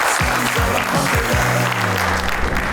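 An audience at a comedy sketch show breaks into dense, loud applause that fills the whole moment, with some gliding tonal sounds running underneath.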